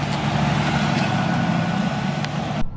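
A squatted pickup truck reversing gives a steady, loud engine rumble with broad road and exhaust noise throughout, close to the microphone, cutting off abruptly at the end.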